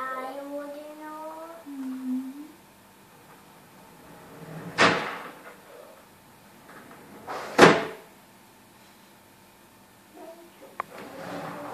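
Two sharp, loud door slams, well spaced, at close range in a home, with quieter handling and faint voices between them.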